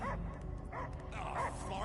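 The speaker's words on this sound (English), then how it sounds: "I hear only barking." A dog barks and yips in short bursts, several sharp calls close by over a dramatic film soundtrack bed, with a voice faintly underneath.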